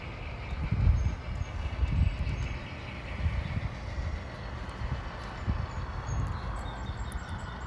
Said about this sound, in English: So we got the train coming back into town.